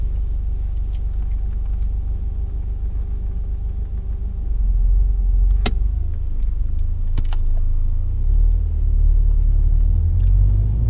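A car's engine rumbles low and steady, then swells as the handbrake clicks off and the car pulls away, with a couple of sharp mechanical clicks and the cabin hum building, no speech.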